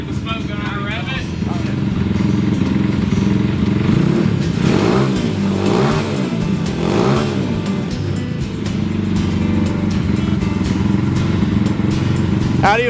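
An Isetta's small engine running and revving with a rough, clattering idle, close by, with people talking loudly over it.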